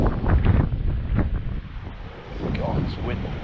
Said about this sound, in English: it's wind, wow